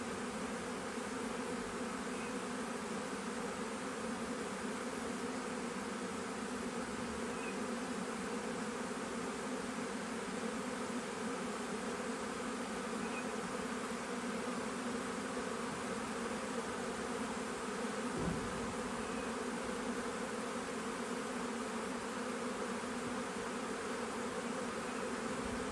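A large honeybee swarm pours into an empty wooden bee box, filling the air with a steady, dense buzzing that holds evenly throughout, with no voices.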